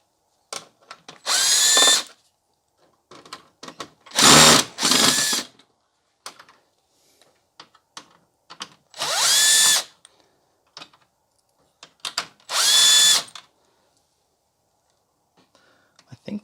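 A power drill backs screws out of a Dell UltraSharp U3011 monitor's circuit board in several short bursts, each a loud close whine rising in pitch, separated by quiet gaps with soft handling noises and some quiet speech.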